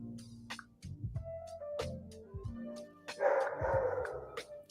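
A dog barks several times in short, sharp bursts at close range, with a few yips between them and some background noise.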